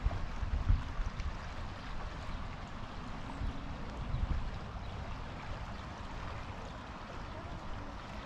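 Fast, high river water at Dale Hodges Park in Calgary rushes in a steady, broad roar, with gusts of wind buffeting the microphone.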